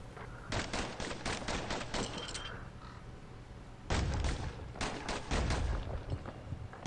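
Twin slinger pistols firing in the video game Bastion, with rapid bursts of sharp shots in two clustered volleys separated by a short pause, loud and close.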